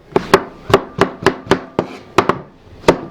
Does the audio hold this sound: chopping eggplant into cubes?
yes